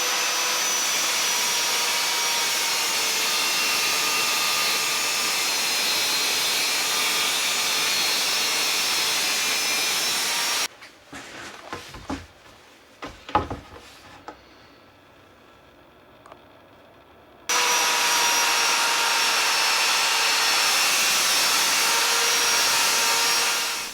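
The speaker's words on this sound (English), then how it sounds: "I cut the slab with my track saw into two similarly sized pieces." A track saw rips loud and steady through a live-edge wood slab, its motor drone holding constant, breaking off into clattering handling noises and a quiet pause before starting up again for another long cut.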